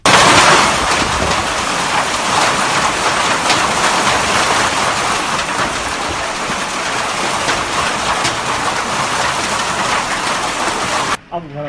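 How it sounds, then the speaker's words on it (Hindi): Heavy downpour in Basai, with hail falling, as a dense, loud, steady roar of rain that fills the whole clip and cuts off abruptly near the end. "बसई में जोरदार बारिश हुई और ओले भी गिरे हैं"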